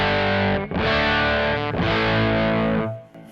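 Distorted electric guitar through a Kemper Profiler amp profile with the bright cap intensity turned all the way down, giving a muffled tone; a few sustained, loud chords ring out and fade at the end, with no talking.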